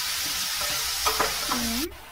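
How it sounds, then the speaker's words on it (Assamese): Red amaranth greens frying in a pan and being stirred, with a steady close sizzle and a few soft utensil scrapes, ending in a short scraping sweep. "এয়া একেলগে এনেদৰে ভাজি ল'ম"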